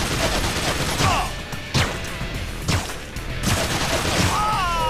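Enemy gunfire in the video game Infernal at the Grey Rock Refinery crackles in repeated bursts and sharp shots over a constant background roar, with a few louder booms.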